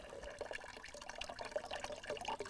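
Spring water poured into a container on a farm, a light splashing trickle with small bubbling and dripping accents, fairly quiet and close.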